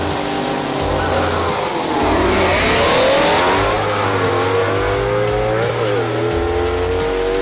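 A Shelby GT350 Mustang and a Corvette C8 launch off the line at a drag race, engines roaring and revving hard with rising and falling pitch, loud and close, the roar swelling as the cars pull away.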